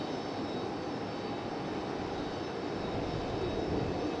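An arriving airliner at Raleigh Durham International Airport produces a steady, distant jet engine drone, an even broadband rumble with no clear rise or fall, alone without speech.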